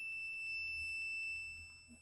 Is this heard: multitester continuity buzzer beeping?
yes